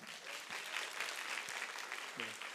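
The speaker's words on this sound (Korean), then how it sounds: "오신 분들 우리 환영하며 박수하시겠습니다" Church congregation applauding during a Sunday worship service to welcome newcomers, a steady wash of many hands clapping at moderate level, with a brief voice surfacing near the end.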